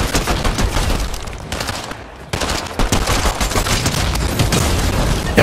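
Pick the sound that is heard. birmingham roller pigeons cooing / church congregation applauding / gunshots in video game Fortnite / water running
gunshots in video game Fortnite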